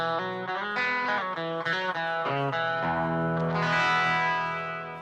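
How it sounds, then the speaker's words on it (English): A guitar note processed through effects rings out with distortion, chorus and echo. It starts as a few shifting plucked tones, then swells into one long sustained note with reverb that fades slowly. No voices are heard. "it sounds like a guitar note"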